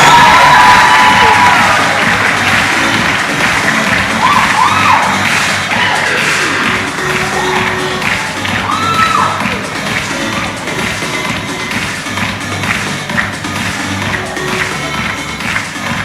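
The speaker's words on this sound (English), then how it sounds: "Round of applause for the winners" A crowd cheers and applauds for the winners, a loud sustained wash of clapping, whoops and excited shouts, including children's voices, that slowly eases over about sixteen seconds.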